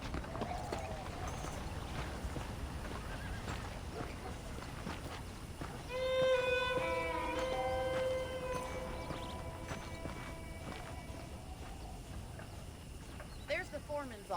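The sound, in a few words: horse hooves in Red Dead Redemption video game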